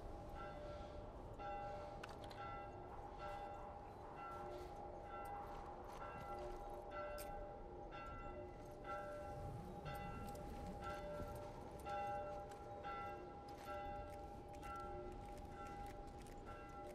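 A bell rings repeatedly at a steady pace in the game The Last of Us, on a hydroelectric dam level, with faint continuous ambient hum beneath the tolling.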